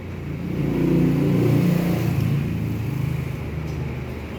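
A 2008 Honda Civic engine runs steadily up close, a low, even rumble that swells slightly in the first second and then holds at a constant idle-like drone with no talking.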